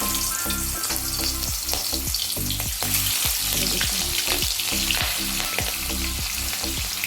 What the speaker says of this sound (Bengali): দেখুন সরষের তেলে আমি মাছগুলো ভেজে নেব।